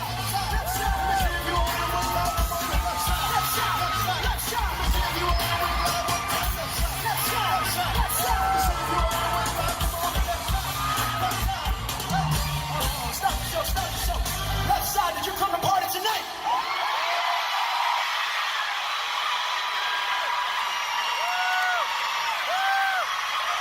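Sold-out arena crowd cheering in a contest during a song: a massive, sustained roar of shouts and whoops over loud music, after which the music drops away and the cheering carries on alone.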